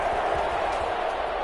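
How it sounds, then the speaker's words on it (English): Broad roar of a football stadium crowd during a game, a steady wash of cheering and noise filling the short stretch without clear peaks. "Crowd getting in it a bit already."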